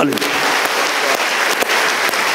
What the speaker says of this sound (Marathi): आम्ही टाळ्या वाजवतो.